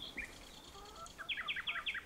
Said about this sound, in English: There they are. All the birds of Oxfordshire and Gloucestershire.